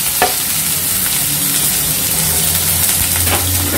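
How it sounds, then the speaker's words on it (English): Onion, capsicum, carrot, green chili and tomato sauté over a high flame in hot oil for Chinese noodles, producing a loud, dense, continuous sizzle with faint stirring scrapes close by. "Saute this for around 2 minutes."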